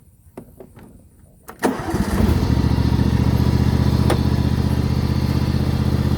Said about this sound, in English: let's get this machine fired up and we'll go for a spin